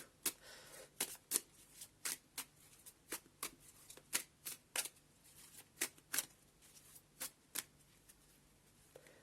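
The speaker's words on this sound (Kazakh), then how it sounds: "Қарайық, 5 карта шығарамын." Tarot cards are shuffled and drawn for a January Pisces reading, a steady run of crisp, close card snaps and riffles repeating roughly every half second with no voices.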